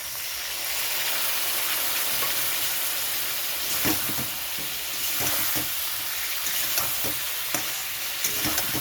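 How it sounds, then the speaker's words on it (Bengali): Cumin paste for a catla fish curry with papaya and potato sizzles steadily in a hot pan, a loud continuous frying hiss with occasional stirring clicks and scrapes, close up and without talk. "এখানে দিয়ে দিচ্ছি জিরে বাটা"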